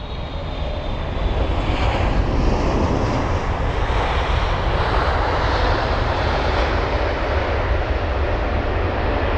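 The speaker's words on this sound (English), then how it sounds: "So the aircraft here, CA937 Air China 777-300ER from Beijing" An Air China Boeing 777-300ER jet arriving at London Heathrow roars loudly and steadily overhead, a broad continuous engine rumble with a faint high whine running through it, no voices present.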